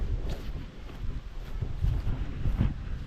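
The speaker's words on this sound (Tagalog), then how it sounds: "Lakas ang hangin." Strong, cold wind outdoors in Finland buffets the microphone in low, rumbling gusts that rise and fall continuously, with no voices.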